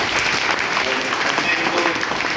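Applause from a class audience at the close of a UPSC interview session, steady clapping crowd sustained throughout with faint voices mixed in.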